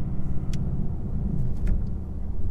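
A Ford car's engine rumbles steadily and low while driving, with a constant road drone and a few faint higher clicks over it.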